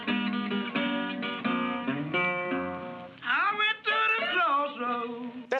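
Old Delta blues recording with a thin, lo-fi sound: plucked acoustic guitar notes and a sliding, wavering singing voice, moderately loud and alone.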